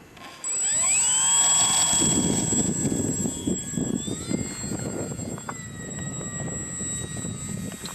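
An electric-powered model airplane whines loudly overhead, its motor tone climbing sharply as it launches, then holding a high buzzing pitch that wavers and shifts as the plane flies off into the distance.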